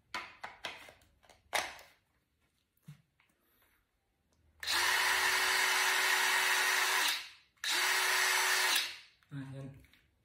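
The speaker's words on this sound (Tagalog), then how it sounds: "And ito rin yung 20 volts na drill." A 20 volt cordless drill whines loudly in two steady bursts of a few seconds each, spinning up and winding down, following some handling clicks and thumps, with someone speaking briefly before and after.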